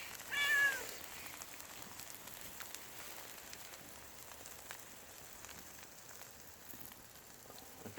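A cat meows once, fairly close, beside an outdoor wood fire where egg and green onion pancakes are cooking, followed by a faint continuous crackle and sizzle.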